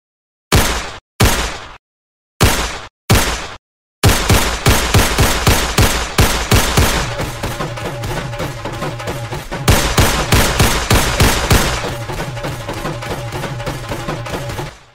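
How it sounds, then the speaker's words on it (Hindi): Animated wedding procession scene with gunfire: a few isolated loud shots, then sustained rapid automatic bursts rattling on continuously, close and dominant. "थोड़ा फायरिंग मायरिंग तो कर लो उस्ताद"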